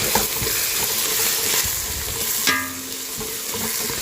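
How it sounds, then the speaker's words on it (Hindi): Onions and tomatoes frying in a pan give a loud, dense sizzle close by, with a brief scrape of stirring midway and no talking. "अभी थोड़ा सा इसको घुमा लेता हूँ।"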